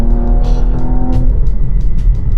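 A 2024 Porsche Macan GTS runs in sport mode with its exhaust valve open, giving a loud, steady engine drone and rumble with a few sharp transient pops over it.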